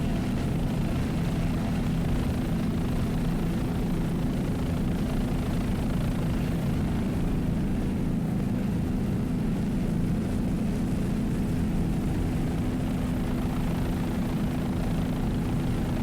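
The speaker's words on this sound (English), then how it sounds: "Mercruiser powered, 500 horsepower inboard" Steady low engine drone from a 500 horsepower MerCruiser inboard race powerboat at an offshore race in Key West, holding a constant throaty rumble for the whole stretch with no voices.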